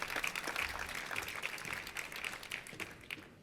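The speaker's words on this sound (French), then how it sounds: "Vous pouvez l'applaudir." Audience applause at a trophy awards ceremony, a brief burst of many hands clapping in a hall, fairly faint and fading out over a few seconds.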